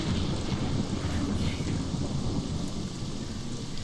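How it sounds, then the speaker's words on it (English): Thunderstorm in the video game Morrowind: a steady, loud wash of heavy rain with deep rolling thunder rumbling underneath, continuous throughout and slowly easing toward the end. "I'm not normally scared of lightning, but in the game, you know, it's quite loud in my ears."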